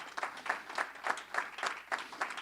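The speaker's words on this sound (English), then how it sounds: "let's give those people a round of applause" A crowd applauds steadily, bursts of clapping swelling and fading in a regular rhythm, moderately loud with no talking.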